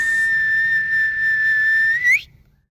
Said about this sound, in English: Put out the Kyle whistle.